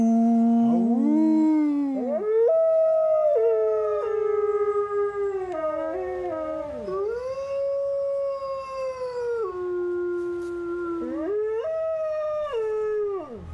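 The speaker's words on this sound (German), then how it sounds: "Der Wolf." A wolf howls in long, sustained, wavering tones that glide up and down, several rising cries in succession, loud and close with no talking over them.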